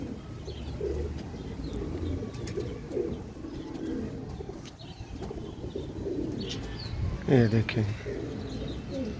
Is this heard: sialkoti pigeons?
yes